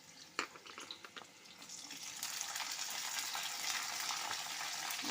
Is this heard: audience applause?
no